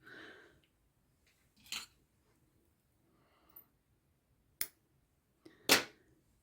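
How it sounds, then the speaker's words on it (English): Scissors cut through crochet yarn in a few short, quiet snips, spaced apart with near silence between them and no talking. "I'm going to cut this bit off."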